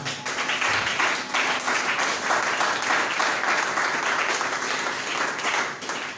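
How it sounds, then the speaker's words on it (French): A church congregation at a French-language sermon bursts into sustained applause, loud and steady throughout with no talking over it. "Que quelqu'un acclame la parole de Dieu."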